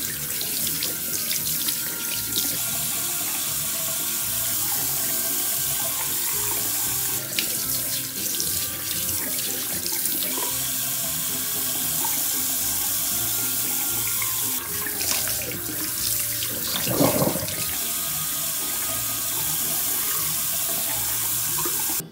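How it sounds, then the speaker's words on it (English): Tap water runs steadily for a preliminary watering of shiitake-style mushroom logs, a continuous close hiss with small splashy fluctuations throughout and no talking. "Today we are going to do a preliminary watering for Choco, Mocha and Coco."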